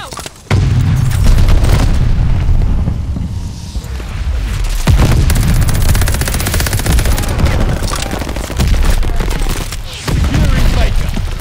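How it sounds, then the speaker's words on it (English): Stun grenade blast and gunfire in Call of Duty Vanguard, a sudden loud boom followed by continuous dense gunfire and explosions, heavy and close throughout, with faint voices mixed in. "Stun grenade out."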